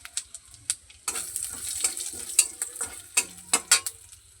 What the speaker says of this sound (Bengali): এলাচ আর জিরে ফোড়ন দিয়ে দেবো